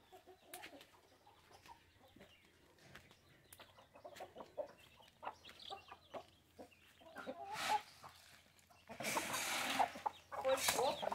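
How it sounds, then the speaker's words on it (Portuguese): A rumpless hen clucks in a farmyard with soft, scattered clucks and bird calls at close range, quiet throughout, with a few louder rustling bursts toward the end. "Outra galinha sura."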